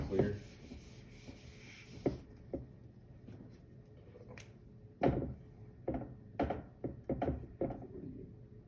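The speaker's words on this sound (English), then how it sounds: "I'll write it out. Write it up here to make it look more clear." Writing out a math answer by hand, scratchy strokes and taps close by, sparse at first and then coming in quicker clusters of short marks near the end.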